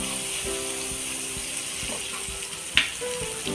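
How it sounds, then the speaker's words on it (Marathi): Butter melting and sizzling in a hot pan before paneer is fried, a steady close hiss with faint clicks and one sharp metallic tap near the end. "त्याच्यामध्ये आता बटर टाकून घेऊया"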